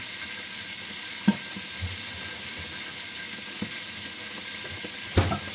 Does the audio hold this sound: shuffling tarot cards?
no